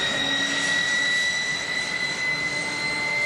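Jet aircraft engines on the deck of an aircraft carrier, a loud steady roar with a high whine running unbroken throughout.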